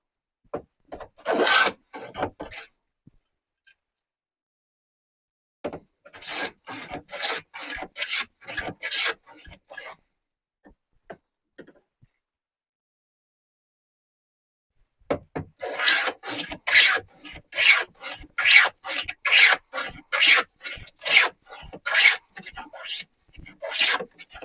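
Stanley No. 4 1/2 smoothing plane, an old auction find, cutting shavings from timber: three bursts of rhythmic rasping strokes, each run of pushes close and distinct, separated by quiet pauses.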